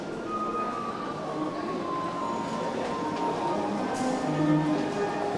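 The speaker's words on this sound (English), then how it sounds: "here we are inside the train station in Yokohama." Inside a busy train station in Yokohama, Japan, a steady wash of crowd and rail noise holds throughout, with a long whining tone drifting down and a brief higher squeal near the end.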